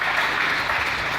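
Church congregation applauding during a French-language sermon, a steady dense wash of clapping that fills the whole moment at even loudness with no voices over it.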